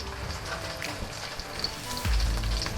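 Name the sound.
soy sauce sizzling as it is added to the frying pan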